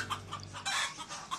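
A Polish crested chicken clucks softly and repeatedly in a short run of low, throaty calls, with a brief louder squawk and faint farmyard background noise.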